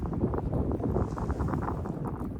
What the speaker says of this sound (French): il y a des bourrasques de vent qui sont arrivées